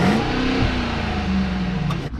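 A Maybach GLS 600 or BMW Alpina XB7 revs outside, a steady deep engine drone with a rising-then-falling pitch, close and loud, ending in a brief dip.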